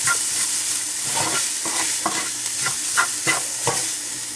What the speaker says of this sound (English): So just roast the spices very slightly.